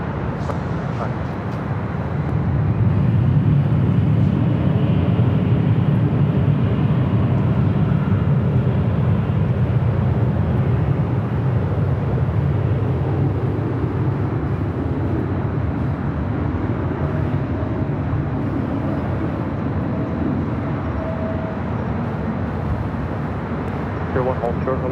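A jet airliner on runway 24 Left at LAX builds into a loud, sustained broadband roar, heard from a distance and holding steady through the whole stretch as it rolls for takeoff.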